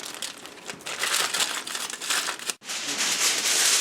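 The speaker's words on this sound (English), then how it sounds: "seal the foil and fold it over so that nothing leaks out" Aluminium foil is folded and sealed over a sheet-pan chicken dinner, producing close, loud crinkling and crumpling in continuous bursts, with a brief pause before the scrunching resumes.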